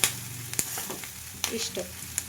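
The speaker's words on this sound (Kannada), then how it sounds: "ಈಗ ಆಲ್ರೆಡಿ ಫ್ರೈ ಆಗತೈತಿ" Jawari donna chillies fry in a pan over high flame, a steady soft sizzle broken by a few sharp clicks and scraping stirs, with no talking.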